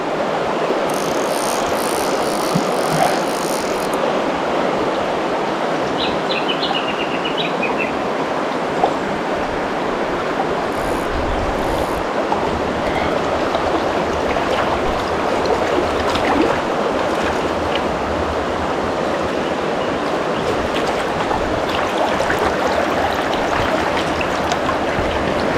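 Mountain stream water in Victoria rushes steadily and close by, a dense, unbroken wash of flowing water that holds a constant level throughout, with no voices.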